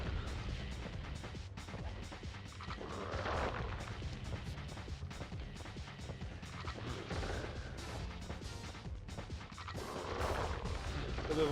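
Gunfire aimed at a decoy in Sly Cooper and the Thievius Raccoonus, with repeated booming shots and crashing impacts that roll on steadily through a dense, noisy battle.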